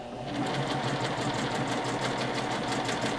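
A sewing machine runs steadily with a fast, even whir, stitching pieces of fabric for a Christmas table runner together, close and continuous with no talking.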